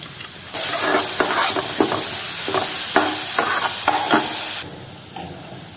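Onion and coriander leaves drop into hot oil in a kadai, bursting into a loud, steady sizzle close by, with a few stirring scrapes, before the hiss eases.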